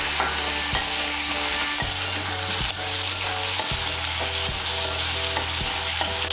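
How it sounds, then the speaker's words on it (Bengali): Chopped tomato sizzles steadily in a hot pan for a fish-head and bottle gourd ghonto, with a spatula stirring and scraping at a regular rhythm, close and fairly loud, no voices. "টমেটো কুচিটা দিয়ে একটু নাড়াচাড়া করে নিয়ে"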